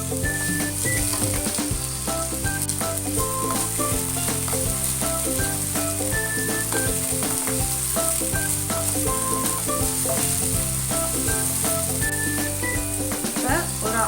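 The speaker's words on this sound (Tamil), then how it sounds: "அடுத்து நறுக்கி வச்ச தக்காளி போட்டுரும்." Chopped tomatoes are added to lightly sautéed onions in a hot pan for a paneer sandwich filling, producing a constant near sizzle throughout, partly masked by steady background music, with no speech.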